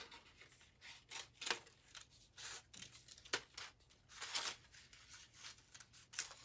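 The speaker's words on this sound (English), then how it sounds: "Just going to cut a circle." Scissors snipping a circle out of yellow paper, faint close crisp cuts and papery rustles arriving in irregular bursts with no talk.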